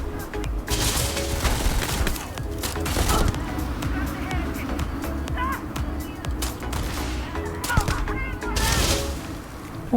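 Suppressed gunfire in the Starfield video game comes as a run of sharp, muffled shots over busy game sound and background noise, fairly close and steady throughout.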